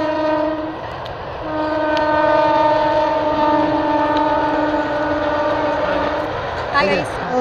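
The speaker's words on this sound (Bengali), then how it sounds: "আর ওইদিকে কিন্তু ট্রেন যাচ্ছে।" A train passes at a distance, its long, steady horn-like tones sustained for several seconds over a faint rumble, heard at moderate level in open surroundings without clear talk.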